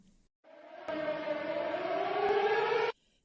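An air raid alert siren sounds at a school in Ukraine, a single loud sustained wail whose pitch slowly rises before it cuts off abruptly.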